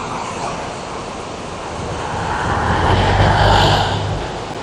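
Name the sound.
river flowing in Baguio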